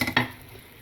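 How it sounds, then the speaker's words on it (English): Two quick clattering hits followed by a soft, steady sizzle of food frying in hot oil, close by. "Sizzling and just about ready to turn over again"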